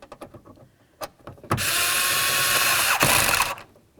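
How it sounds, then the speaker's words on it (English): A door handle mounting screw is run in and tightened on a 1994–2004 Chevy S-10, with a few light clicks first, then a steady power-driver whir for about two seconds and a brief final burst. "Now we can start in our mounting screw"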